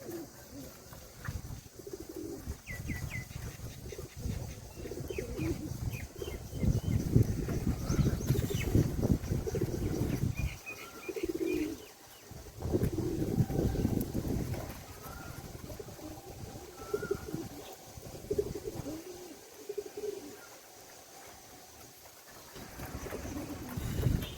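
A pigeon with a mild head-tilt (twisted-neck) condition coos in repeated low, throaty bursts, fairly close and moderately loud, with short pauses between phrases and faint background noise throughout.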